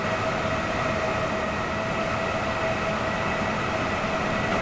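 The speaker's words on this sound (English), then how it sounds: "it was 2 trains going and leaving the station at the same time" Two electric multiple-unit trains pull away from a station at the same time in a railway simulation game, a steady loud rumble and whine with a constant high tone throughout.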